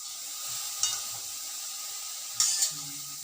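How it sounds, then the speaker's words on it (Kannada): Medium-sized ridge gourd peel frying in a pan gives a steady, soft sizzle, with a couple of sharp clinks of stirring on top and no talk. "ಚೆನ್ನಾಗಿ ಹುರಿಯೋಣ ಇದನ್ನು."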